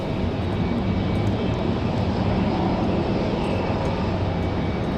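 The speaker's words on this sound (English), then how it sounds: "Sounds like a Southwest departing over on the other side." A Southwest airliner departing from Raleigh-Durham International Airport, heard as a steady, loud, broadband jet roar rumbling from across the field for the whole stretch, with no voices.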